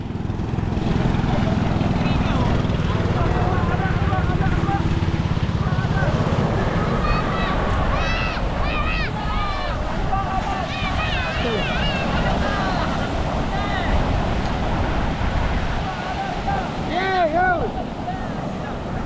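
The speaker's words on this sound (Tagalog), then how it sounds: "May dumarating na ulit na bangka." An approaching boat's engine hums over wind and surf on open sea, while voices talk and call out intermittently.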